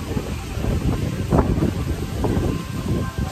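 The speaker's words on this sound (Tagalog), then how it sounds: "sobrang lakas ng hangin" Strong wind roars and buffets the microphone in a loud, steady rush, with low rumbling gusts that never let up.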